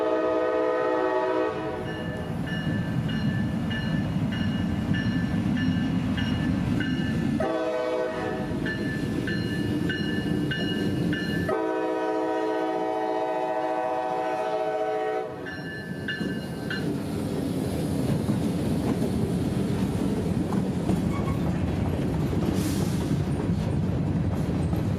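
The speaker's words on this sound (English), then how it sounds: "Engine 2051's cheerful horn is waking up the neighborhoods" Locomotive 2051's horn sounds in several long blasts while a cement freight train rumbles past steadily, its wheels clattering continuously throughout.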